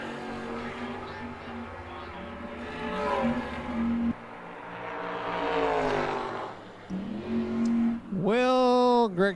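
A Chevrolet Camaro drag racing at an old-time drag strip, engines droning and rising in pitch as the cars pass, with a loud revving car up close near the end and commentary talk underneath.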